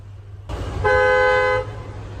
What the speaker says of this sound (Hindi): डुअल टोन इलेक्ट्रिक हॉर्न्स हैं